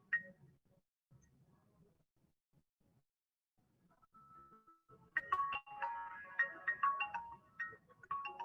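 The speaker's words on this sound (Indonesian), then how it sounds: "Bentar, saya ada telepon dulu" A phone ringtone for an incoming call starts partway through, a bright melodic tune of repeated notes that rings out loudly after some faint low sounds and quiet.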